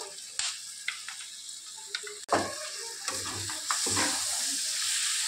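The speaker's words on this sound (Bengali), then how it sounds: "এবার চিকেনটা দিয়ে ভালো করে নেড়ে চেড়ে একটু ভালো করে চিকেনটা কষিয়ে নিতে হবে" Chicken stir-fried with onion, capsicum and spices in a pan, a steady sizzle punctuated by ladle taps and scraping as it is stirred, the frying growing louder and denser toward the end, close up.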